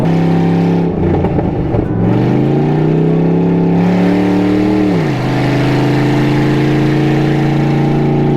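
A car drives under steady engine load, its drone sliding down in pitch as the automatic transmission shifts, then settling after a drop as the overdrive locks up; a continuous, close, fairly loud drivetrain sound with no talk.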